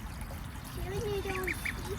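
Pet ducks quack in a short series of nasal calls over a steady background of trickling water, with a person speaking nearby.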